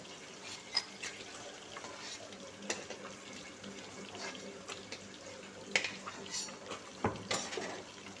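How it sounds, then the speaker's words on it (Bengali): Lentil dumplings frying in oil in a wok and being lifted out, a soft continuous sizzle broken by several sharp metal clinks and scrapes of a utensil against the pan. "বড়িগুলো আমার লাল লাল ভাজা হয়ে গেছে। এবার এগুলো তুলে নিচ্ছি।"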